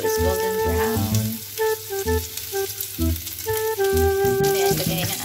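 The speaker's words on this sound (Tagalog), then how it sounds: "gisa natin ang ating bawang until it's golden brown" Garlic sautéing in oil until golden brown crackles with a constant sizzle, heard beneath a person speaking throughout.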